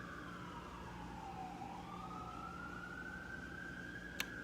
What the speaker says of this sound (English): Sirens are still sound, but whatever.